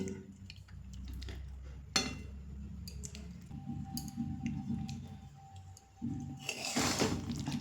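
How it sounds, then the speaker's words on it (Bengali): A dal, pumpkin and shrimp mixture being gently stirred in a pot, with soft, quiet squishes and occasional light clinks of a utensil against the pot, heard close up and without talk. "তো একটু আলতোভাবে এটা মিশিয়ে নিচ্ছি"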